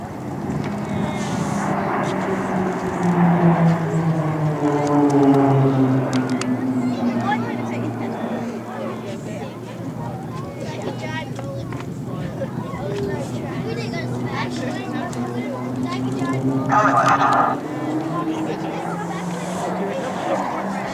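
Five RAAF Roulettes aircraft in formation roar past at a Point Cook flying display as they pull up into a loop, their engine tones sweeping downward as they pass. An announcer talks over the crowd.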